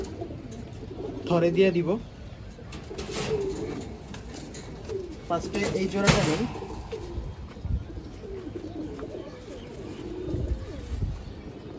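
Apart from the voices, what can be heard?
khaki pigeons cooing in a loft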